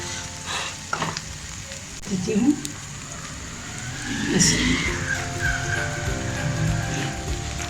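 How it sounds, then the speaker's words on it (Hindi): Egg and bread slices sizzle in a pan over a medium flame for an egg cheese sandwich, a steady close frying hiss with occasional clinks while someone talks over it. "इसको मैंने पकने देना अंडे को। मीडियम फ्लेम मैंने कर दिया है ताकि जल भी ना जाए और अच्छी तरह पक जाए।"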